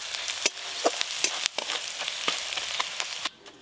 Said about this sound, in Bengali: পেঁয়াজ একটু হালকা করে ভেজে নিয়েছি, এবার কটা গুঁড়ো মশলা দিয়ে দেবো।